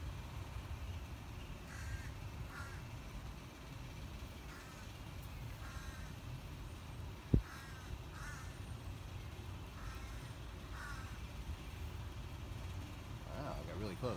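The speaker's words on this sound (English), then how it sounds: "The crow's getting pissed off." A crow caws repeatedly from a residential tree with a squirrel's nest, the short harsh calls recurring at a moderate distance over low traffic rumble, with one sharp knock partway through.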